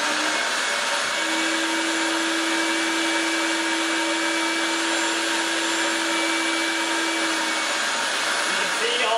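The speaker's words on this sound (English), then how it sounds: "get a shop vac, nice attachment" Shop vac running steadily with a brush attachment while cleaning a vintage movie theater seat, a loud continuous whine and rush that holds at an even level throughout.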